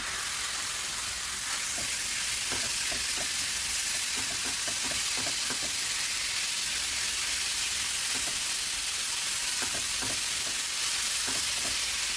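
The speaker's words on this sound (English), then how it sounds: "I'm not going to add oil at the moment because I want the meat to cook in its juices." Beef pieces for a Mexican beef stew sear in a pan without oil over medium-high heat, giving a loud, steady hiss with scattered crackles throughout.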